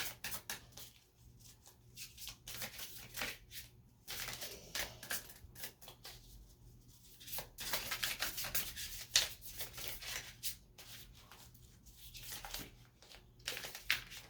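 Cardstock tarot-style cards being shuffled by hand, repeated brisk rubbing and riffling bursts with short pauses between, close and fairly quiet, no talking.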